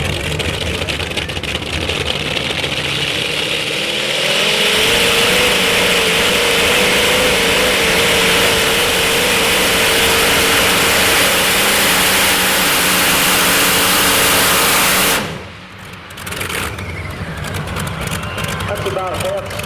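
A pulling vehicle at a truck and tractor pull, its engine roaring loud and sustained for about ten seconds before cutting off abruptly, then a quieter rumble resumes, with an announcer talking over it.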